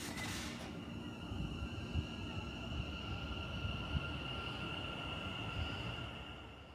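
A train on the Cross City line pulling into a West Midlands railway station, steady low rumble of rolling stock with a sustained high-pitched wheel squeal, fairly faint and continuous.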